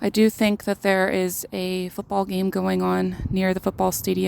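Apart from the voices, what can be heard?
No everyday noises stand out.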